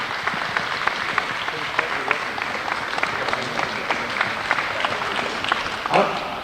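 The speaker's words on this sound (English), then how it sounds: "Let's have a round of applause for all these people and all the hard work they've done." A crowd gives a round of applause at a gathering, a continuous dense clatter of many hands with occasional louder claps and some voices mixed in.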